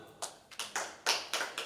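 Hands clapping in a church congregation during an evening worship service, about six loud separate claps in an uneven rhythm, close by, with no voices.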